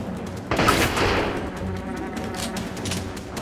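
A rocket launcher fires repeatedly at incoming enemies in a video game, giving a burst of rapid loud blasts followed by a continuous crackling, rattling stream of explosions and shots.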